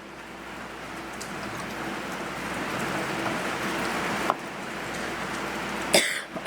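Rain falls outside in a steady, soft hiss throughout, with a cough and a small knock breaking in near the end.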